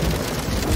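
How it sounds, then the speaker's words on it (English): Rain sound effect played on an electronic keyboard: a short, steady wash of hissing noise, moderately loud, with no voices. "why would you want to make rain sounds on your keyboard?"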